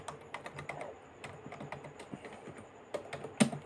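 Rapid, uneven keystrokes clatter on a computer keyboard while someone types JSON request content, a close, dry burst of taps that pauses briefly and ends with a sharper final key press.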